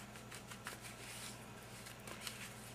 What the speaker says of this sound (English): as we're shuffling the cards